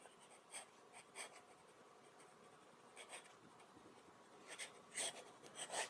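A titanium fountain pen fitted with a HongDian #5 nib writes in reverse, giving faint scratchy strokes that come in short irregular bursts and skip over a quiet background.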